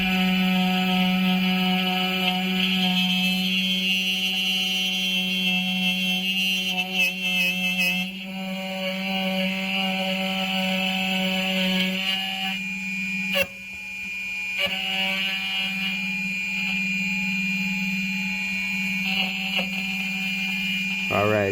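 Xhorse Dolphin XP 007 manual key cutting machine cutting a key, a sustained high-pitched whine with a steady tonal hum that holds for the full stretch, dipping briefly midway as the cutter runs along the blade.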